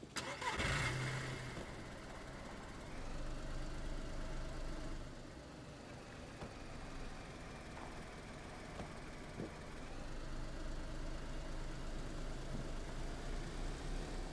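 Car engine in the video game DayZ starting with a sharp burst, then running and driving as a low, steady rumble throughout, fairly quiet and uninterrupted by speech.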